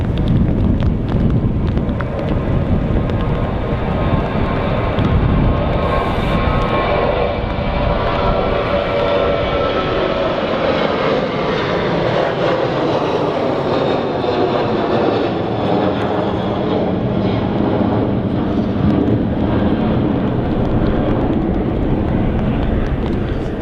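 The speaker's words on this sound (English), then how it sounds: "Ryanair 737-800 on the roll." A Ryanair Boeing 737-800 takes off in a strong crosswind at Manchester Airport, its jet engines roaring loudly and steadily throughout, with the pitch slowly shifting as it accelerates down the runway, under gusty wind buffeting the microphone.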